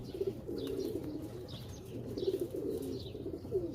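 Breeding pigeons coo repeatedly at close range, a throaty pulsing murmur in irregular bursts, with light chirps scattered over it and a steady hum beneath.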